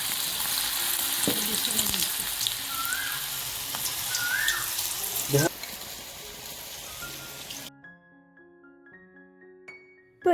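Fritters (bora) fry in hot oil with a close, dense sizzle and some stirring clatter for several seconds before the frying noise drops away into quiet, with faint tonal sounds after.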